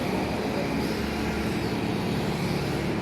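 A Losi Micro Rally-X 1/24 scale RC car drives around a track, giving a steady, continuous motor whine with a dense rushing wheel noise and no breaks.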